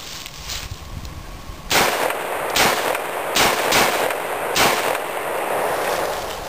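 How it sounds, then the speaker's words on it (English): An AR-15 rifle fires a string of loud, close gunshots, with about seven sharp cracks at irregular intervals, each leaving a brief echoing tail. "I'm going to demonstrate how it has zero recoil by putting it against my forehead and pulling the trigger."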